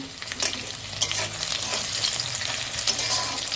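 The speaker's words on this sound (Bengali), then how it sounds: "পেঁয়াজগুলো নাড়াচাড়া করে লাল করে ভেজে নেব" Large onion pieces crackle and hiss in hot oil as they are stirred, a dense, close sizzle with quick scraping strokes and no talking.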